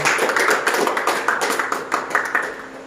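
High school students in a classroom clap together in a quick, rhythmic pattern of sharp, distinct claps, close and clear with no talking.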